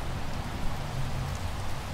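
Acid rain in the video game No Man's Sky pours down as a dense, steady hiss of rainfall with a low rumble underneath, constant and fairly loud with no voices.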